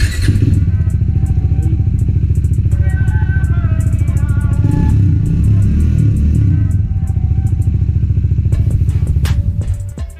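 A new motorcycle with its stock exhaust runs steadily close by for about ten seconds, a loud, even engine pulse with a brief swell in revs midway and faint ticking clatter on top.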